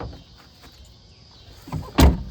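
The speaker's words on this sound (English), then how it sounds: "Let me shut the doors real quick on this side so you can get a better view." A door on a Jeep Gladiator Overland pickup slams shut once near the end, a single loud, close thud after a quieter rustle and a smaller knock just before it.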